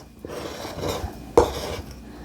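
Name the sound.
tablespoon scooping dough into a muffin tin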